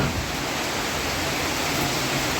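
Heavy rain pouring down, a dense, loud, continuous roar of falling water that stays even from start to finish with no voices heard.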